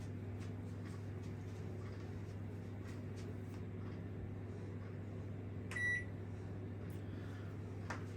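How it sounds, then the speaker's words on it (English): A microwave oven hums steadily and quietly while heating food covered in oil, with a short electronic beep partway through. "Just microwave them for a minute"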